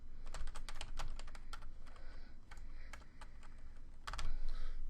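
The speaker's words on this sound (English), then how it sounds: "we'll just type in" Fingers tapping on a computer keyboard, a quick run of close, crisp keystrokes in bursts over a steady room hum, with a brief pause before a final cluster of keys.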